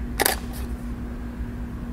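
A single quick camera shutter click near the start, crisp and close, followed by a quiet steady electrical hum.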